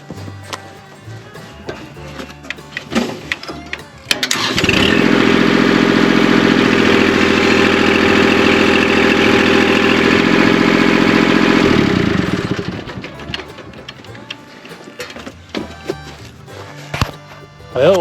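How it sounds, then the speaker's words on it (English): A tractor engine, lifting a load for a chicken coop move, roars loud and steady for about eight seconds in the middle, with quieter knocks, clanks and handling noises before and after. "I was able to lift this with the tractor once."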